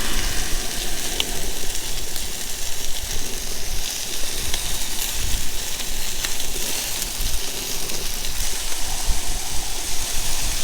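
Morel mushrooms fry in butter in a pan at an outdoor camp cookout, giving a steady, dense sizzle that holds evenly for about ten seconds with no talking.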